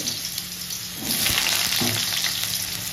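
Diced potatoes fry in a pan with a steady, close sizzle, and a few soft scrapes and clatters of stirring rise over it partway through.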